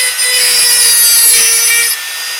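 A loud, steady high-pitched grinding rasp as excess opal chips are trimmed off silver work, running continuously for about two seconds close up before easing off.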